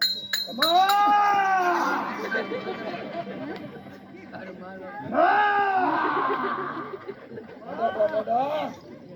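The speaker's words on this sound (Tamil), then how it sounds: "மாடு பயிருக்கு கத்துதே." A cow lets out two long, loud moos with a shorter third call near the end, heard close over a bustling background of chatter and voices at an outdoor gathering.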